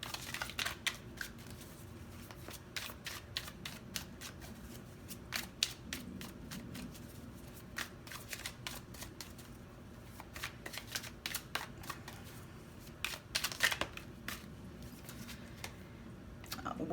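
Tarot cards shuffled and drawn for a reading, with a long run of crisp, close riffling and flicking card sounds in quick bursts, separated by short quieter pauses.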